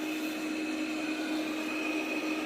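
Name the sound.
robot vacuum cleaner vacuuming carpet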